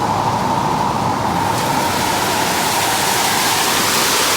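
Heavy tropical rain in the Philippines heard from inside a house, a loud, steady rushing hiss of water pounding the roof, continuous and even with no voices.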